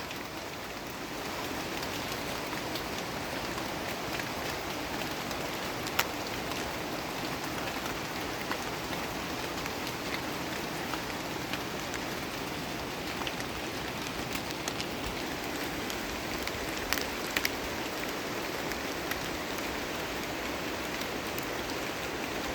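Light rain falls on a misty cocoa plantation, a steady soft patter of drops on leaves that continues evenly throughout, with occasional slightly louder drips and no voices.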